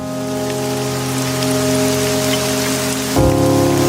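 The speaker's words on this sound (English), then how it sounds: "It's a rainy day at Clearview Cemetery" Steady rain pours at a cemetery, a loud, even hiss of drops on surfaces, with a sustained musical drone underneath and a soft shift near the end.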